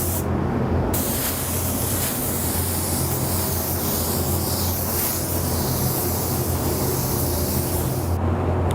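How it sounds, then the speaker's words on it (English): A spray gun lays a first coat of Hot Rod Sparkle White paint, giving a loud, continuous close-up hiss that runs almost without a break, briefly pausing at the start and end. "While we were spraying our Hot Rod Sparkle White"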